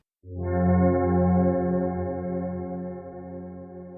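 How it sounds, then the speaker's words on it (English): A guitar note fades in slowly with no attack through a Headrush AmbiVerb reverb pedal swell effect, blooming into a lush, sustained reverberant chord that gradually decays. "On this AmbiVerb reverb pedal, one of the things that does for you is gives you a swell sound."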